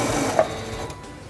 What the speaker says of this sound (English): Release the reverse button and sew to the end.